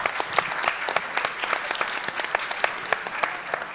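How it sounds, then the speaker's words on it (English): At a game pitch battle at the Nordic Game Conference 2024, an audience applauds the judges with dense, continuous clapping, each hand strike crisp and distinct, sustained for the whole moment. "Would you please give a big applause to the judges?"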